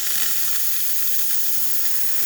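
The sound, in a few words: La Pavoni espresso machine steam wand hissing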